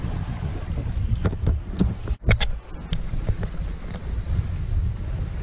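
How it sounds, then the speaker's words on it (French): A Sunfast 3300 sailboat running fast on open water off the Île de Ré, with wind buffeting the microphone, rushing hull and wave wash, and a few sharp spray hits mid-way, with no voices. "Sunfast 3300. Une fusée sur l'eau."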